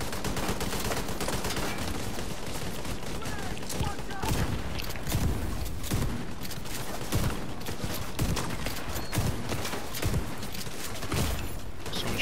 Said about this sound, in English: Someone shooting behind us.